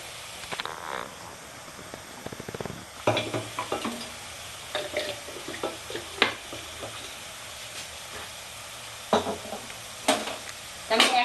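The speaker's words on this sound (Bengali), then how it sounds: "কড়াইতে একটু তেল দিলাম" Oil sizzles in a wok as chicken biryani is started, with short bursts of crackle and scraping stir strokes spread irregularly over a quiet kitchen background.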